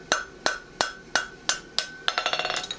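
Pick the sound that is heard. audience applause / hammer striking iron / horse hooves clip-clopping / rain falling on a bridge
hammer striking iron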